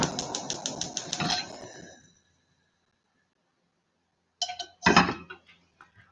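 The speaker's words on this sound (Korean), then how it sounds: "다시 볶아 보겠습니다." Vegetables with fennel and pepper are stir-fried in a pan: a quick rhythmic run of clinking utensil strikes, then a pause, then a few louder scrapes and clanks against the pan.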